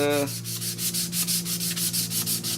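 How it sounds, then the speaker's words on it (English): Sandpaper wrapped around a mailbox post, rubbed back and forth to sand off rust: a rhythmic series of about a dozen close, loud scraping strokes. "So I just gotta sand it, and I just wrap a little piece of sandpaper around it"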